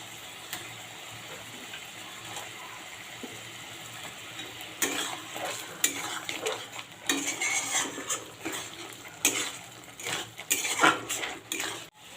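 Fried eggs being stirred into an egg and yogurt curry in a pan, with utensils clinking and scraping against the pan in irregular bursts that grow busier partway through, fairly close and with no voices.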